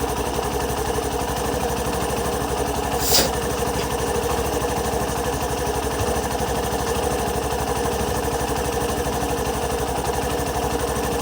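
Hero Passion Pro motorcycle engine idling with its i3s start-stop system switched off, a steady close-up mechanical putter running continuously for about eleven seconds with one brief tick partway through.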